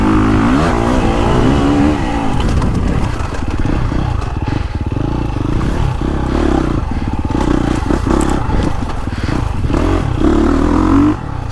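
A KTM four-stroke dirt bike on a woods loop roars loudly and continuously close by. The engine revs and drops again and again as the rider shifts and works the throttle, with clattering bursts under it.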